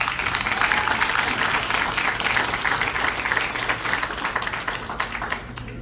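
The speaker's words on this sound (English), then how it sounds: "I'd like you to give them a round of applause." Sustained applause from an audience at a 50th anniversary gathering, dense steady clapping filling the room for several seconds.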